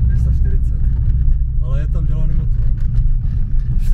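Subaru Impreza boxer engine idling steadily, a loud low throbbing rumble close by, with a brief rise in pitch midway and people talking over it.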